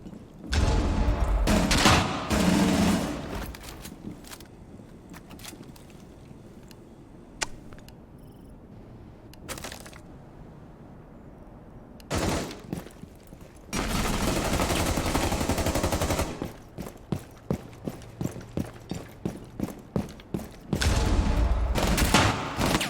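Gunfire in a shooter video game, with bursts of automatic fire and rapid single shots rattling off in loud clusters separated by quieter pauses, alone with no talk.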